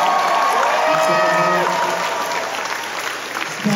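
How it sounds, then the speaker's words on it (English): Convention crowd at a horror fan event applauding the creator of Terrifier, a loud continuous wash of clapping and cheering with whoops and voices rising over it throughout. "Give a round of applause for David, who created Terrifier"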